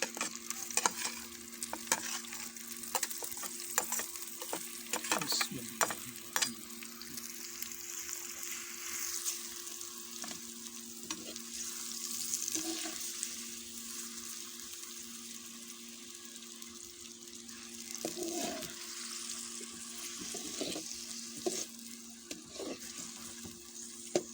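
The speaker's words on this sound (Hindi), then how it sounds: "यहाँ पर प्याज को हम फ्राई करेंगे यहाँ तक कि ये ब्राउन होना शुरू हो जाए।" Chopped onions fry over an open wood fire in a village-style pot for Sindhi biryani, a steady sizzle with occasional stirring scrapes and faint water sounds, no talk.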